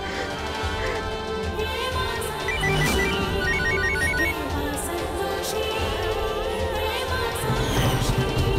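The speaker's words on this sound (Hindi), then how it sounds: "मेरा फोन क्यों नहीं कोई उठा रहा, मैं इसको फिर से लगाता।" A phone rings on and on without being picked up, a repeating electronic ringtone pattern sounding over a dense, busy background of music and ambience from a Hindi devotional TV serial.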